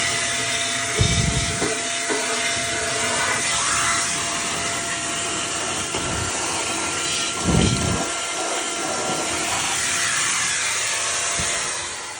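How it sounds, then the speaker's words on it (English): Household vacuum cleaner fitted with an elbow attachment, sucking lint out of a clothes dryer vent hose: a loud, steady motor whine and airflow roar that runs throughout, with brief bumps and clunks as the nozzle moves. "this little elbow attachment on my vacuum really makes this easy"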